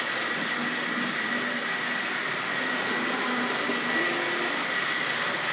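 A steady, whirring electric motor and plastic gearing drive a Hornby R.374 Battle of Britain class model locomotive, with an even mechanical buzz and no pauses throughout.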